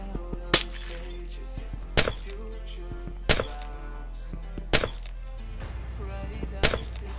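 Glass blocks shattering in Minecraft, five separate crisp breaking crashes spaced about a second and a half apart over a steady low background hum.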